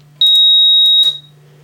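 A FireLite MP-12/24 fire alarm control panel sounds a piercing electronic alarm tone, loud and close for about a second when a button is pressed, then cuts off, with a low electrical hum underneath.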